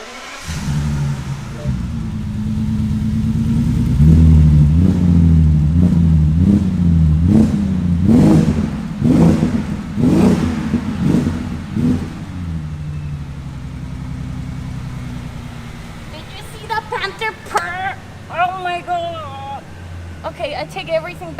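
A customised 2005 Rolls-Royce Phantom engine starts, then revs in a series of loud rhythmic bursts that rise and fall for several seconds before settling to a steady idle, with a person talking near the end.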